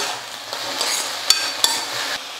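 Mint leaves sizzle and crackle in a hot pan while a utensil stirs, with a few sharp scrapes and taps against the metal.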